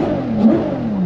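A Ferrari F12 TDF's V12 engine revs hard nearby, a loud rising snarl with a brief surge midway, heard from inside the car.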